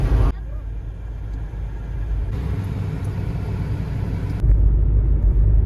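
Car interior while driving along a busy city avenue in Berlin at Christmas, steady low engine and road rumble throughout, close and continuous.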